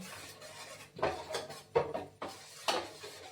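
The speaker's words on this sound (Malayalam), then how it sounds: "നമ്മളത് നന്നായിട്ട് ഒന്ന് ഇളക്കി കൊടുക്കുക" Ragi porridge being stirred in a pot, heard as soft intermittent scraping and rubbing strokes of a spoon against the vessel, quiet and close, in four or five separate bursts.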